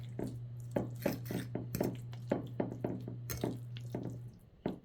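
Chicken and noodles being stirred in a pot on the stove, giving a steady run of soft scraping and tapping knocks from the utensil against the pot over a low continuous hum, with no voices.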